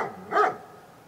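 A single short dog bark or yelp from an old dog in a children's Bremen Town Musicians story, heard once near the middle as a brief, moderately loud bark with no talk.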